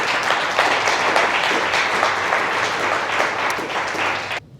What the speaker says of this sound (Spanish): Fuerte el aplauso a la gloria de Dios.